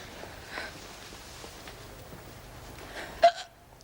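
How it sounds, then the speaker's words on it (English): A woman with hiccups gives a few soft hiccups and one sharp, louder hiccup near the end, faint and close against quiet room noise, with no talking. "Now I've got the hiccups."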